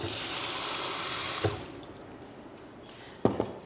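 Water pours steadily into a bowl for about a second and a half, then stops, and a couple of light clunks follow in a quiet room.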